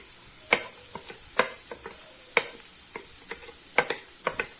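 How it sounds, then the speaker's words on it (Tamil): Beans, carrot, cabbage and capsicum sauté in a pan for millet noodles, a soft sizzle broken by sharp, irregular clicks of a spatula stirring, up close and with nobody talking. "இது கொஞ்சம் நல்லா வதங்கட்டும் காய்"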